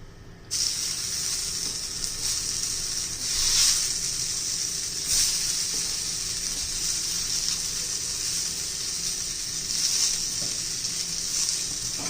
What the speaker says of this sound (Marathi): मी तळून नाही घेणार, तर थोडंसं तेल टाकून परतून घेणार आहोत.